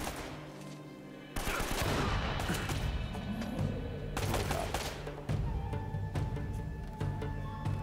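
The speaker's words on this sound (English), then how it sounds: "Who's shooting me?" Gunfire rattles in Uncharted: Drake's Fortune, loud repeated bursts of automatic shots and booms filling the whole stretch with dense, overlapping fire.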